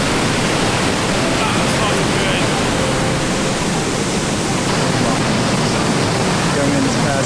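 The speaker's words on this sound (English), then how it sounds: "so you can look down at this beast of a waterfall" A 317-foot Yosemite waterfall roars in a steady, loud, dense wash of white water that holds unbroken from start to finish, with no pauses or separate splashes.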